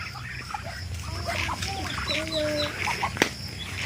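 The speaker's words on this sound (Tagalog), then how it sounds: "Ito yung mga pato." Ducks quack and chatter nearby, with a few drawn-out calls and flapping over a low background rumble.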